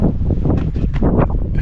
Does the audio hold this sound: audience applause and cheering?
no